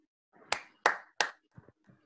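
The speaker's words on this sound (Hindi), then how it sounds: "अरे मैं ताली बजा रहा हूँ।" One person clapping by hand, three sharp close claps in quick succession followed by two softer, fainter ones, in an otherwise quiet room.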